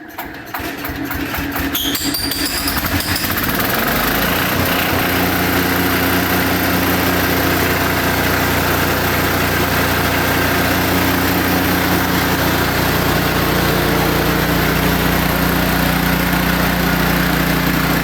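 Cub Cadet 125 Hydro lawn tractor engine cranks and catches with a few sputters, then settles into a loud, steady small-engine drone that runs close and continuous to the end.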